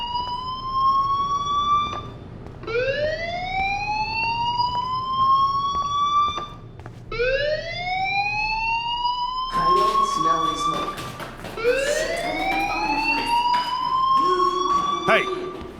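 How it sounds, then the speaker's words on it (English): A fire alarm sounds inside the video game Life is Strange, with repeated rising electronic whoops of about two seconds each, loud and steady. They overlap and double up toward the end, and a voice talks over part of it. "do you hear that fire alarm?"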